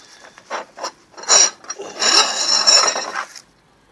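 Steel metalworking files clatter and scrape as they are rummaged through, a series of close, loud metallic rattles and rasps in short bursts, then a longer jangling stretch before stopping.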